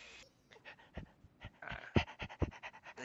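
A husky panting in a video game, rapid rhythmic breaths repeating steadily and fairly close, with no talk over it.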